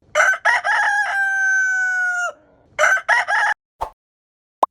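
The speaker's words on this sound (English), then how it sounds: "It's rooster." A rooster crows a long cock-a-doodle-doo, loud and close, with no background noise. Shorter bursts of crowing follow, then a couple of brief sharp clicks.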